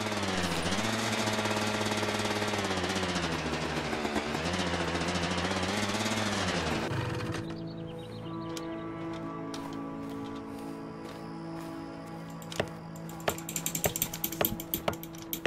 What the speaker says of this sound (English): I think I'm gonna need a hammer.